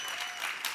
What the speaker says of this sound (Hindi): एक बार गौहर और राजीव के लिए जोरदार तालियां